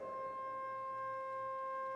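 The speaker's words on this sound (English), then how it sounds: "If I halve that and select a 4-foot pipe," Steady sustained organ tone from a 4-foot pipe sounding an octave above middle C, a pure held pitch with faint upper harmonics, quiet and unbroken throughout.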